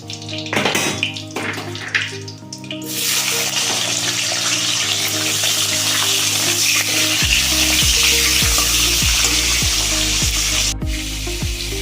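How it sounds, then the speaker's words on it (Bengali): Tomato pieces fry in a pan of oil while making a vegetable paneer curry, a steady loud sizzle rising after a short quiet start and holding to the end over tonal background music. "তো টমেটো ভাজা হয়ে গেছে, তুলে নেব।"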